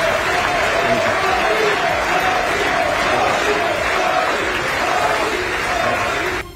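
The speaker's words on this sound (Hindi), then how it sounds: "अमेरिका की संसद कभी तालियों की तड़तड़ाहट से तो कभी मोदी मोदी के नारों से गूंजती रही" Dense crowd applause and rhythmic chanting of a leader's name fill the US Congress chamber, a loud, steady wall of clapping and voices throughout.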